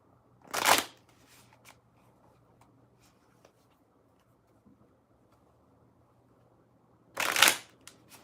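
Two separate bursts of card shuffling, each a quick rippling riffle lasting under a second, sound close and crisp, split by a long near-silent stretch with a few small taps.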